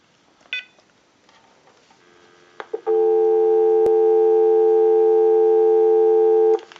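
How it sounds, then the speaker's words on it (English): A steady dial tone on a General Electric 27831 cordless telephone hums loud and unbroken for several seconds, preceded by a few faint clicks and a brief beep. "We'll go ahead and give you some dial tone."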